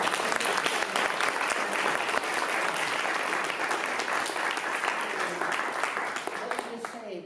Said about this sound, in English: Let's give the man a round of applause.